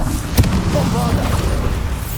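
A Bombarda blasting spell explodes in Hogwarts Legacy, a short booming burst early on, followed by rumbling game ambience and faint tonal effects.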